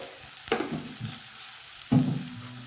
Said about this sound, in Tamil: இது கூட கொஞ்சம் உப்பும் மஞ்சள் பொடியும் சேர்த்து நம்ம வதக்கி விட்டுக்கலாம்.